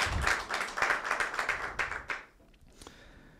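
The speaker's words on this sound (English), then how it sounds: "that's your applause." An audience at a public dialogue event in Skopje, North Macedonia claps steadily for about two seconds, then the applause thins to a few scattered claps and dies away.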